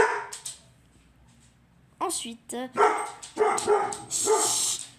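Dogs bark indoors in a quick burst of several sharp, loud barks and yips, with someone speaking French before and around them.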